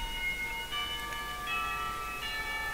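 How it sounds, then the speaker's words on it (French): A school bell rings in the visual novel Katawa Shoujo, several bright, sustained metallic tones struck in succession and overlapping, fairly loud against a faint background hiss. "la cloche sonne et je dois aller en classe"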